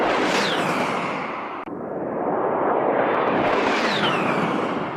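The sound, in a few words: A-10 Warthog aircraft whine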